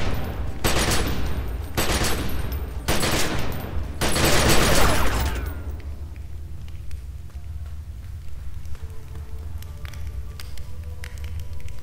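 Assault rifle fire in the video game The Secret World, several loud, dense bursts of gunfire in the opening seconds, then quieter game ambience with faint scattered taps.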